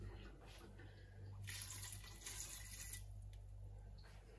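Water poured into a Cookeo multicooker pot while cooking white beans, a soft continuous splashing and trickling stream, close but faint, swelling in the middle and then easing off.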